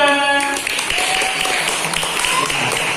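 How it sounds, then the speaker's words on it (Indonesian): A classroom group gives applause for group 2, steady dense clapping that runs the whole few seconds, with voices talking over it throughout. "Tepuk tangan untuk kelompok 2."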